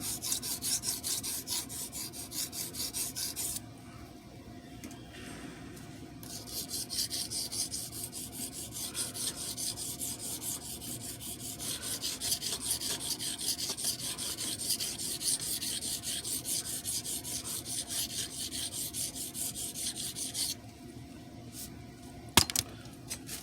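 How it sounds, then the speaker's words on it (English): Steady dry rasping of a blade tip being sharpened, continuous strokes with a brief lull near the start and a sharp click toward the end, close and moderately quiet. "Focus on sharpening the tip some."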